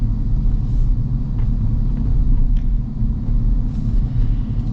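A large 2024 Hummer SUV accelerating, heard from inside as a steady, loud low rumble of engine and road noise that swells slightly over several seconds, with no talking.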